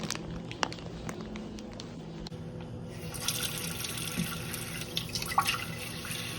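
Cold tap water running in a kitchen sink to rinse broccoli and Brussels sprouts, a quiet trickle with drips and splashes that grows into a fuller steady stream partway through, close and alone without talk.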